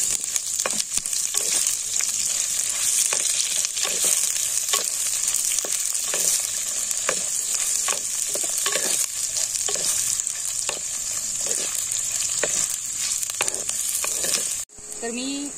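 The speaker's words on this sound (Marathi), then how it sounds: "आता कांदा चांगला परतून घ्यायचा" Chopped onion and green chili sautéed in a pan after mustard seeds, a loud steady sizzle with regular scraping strokes of a spoon, close up, ending with a brief cut near the end.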